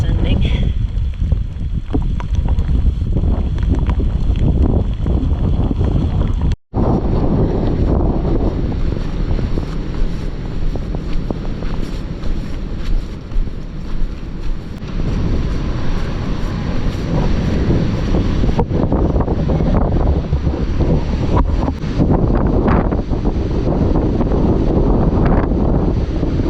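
Strong, steady wind on the Appalachian Trail near Blood Mountain buffets the microphone with a loud, continuous roar, briefly cutting out once before resuming.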